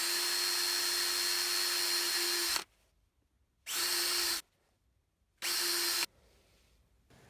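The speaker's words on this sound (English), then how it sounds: "Drill pilot holes on each of the 3 pencil marks." A power drill bores pilot holes in a PVC elbow, its motor whining loudly in three separate bursts, one long and two short, with near-silent pauses between.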